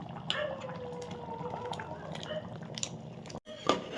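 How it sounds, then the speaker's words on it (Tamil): Ground coconut paste is poured into a pot of simmering goat curry, giving close, wet glugging and splattering with small drips and a sharper splash near the end. "இப்போ நம்ம தேங்காயை அரைச்சி வச்ச தேங்காயை ஊற்றிக்கலாம்"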